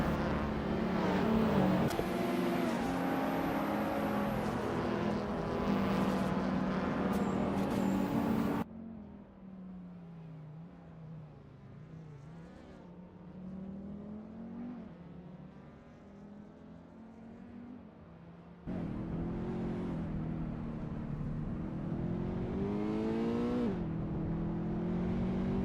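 Race car engines in a racing video game, including a 2013 Scion FR-S, droning and revving continuously with rising and falling pitch as gears shift, loud in the first and last stretches with a quieter muffled passage between.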